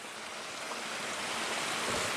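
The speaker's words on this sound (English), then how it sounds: "Got a little bit of a waterfall over here." A small waterfall in a homemade garden pond built with a 1952 GMC spills steadily, a soft, constant trickling wash that stays faint and even with no talking.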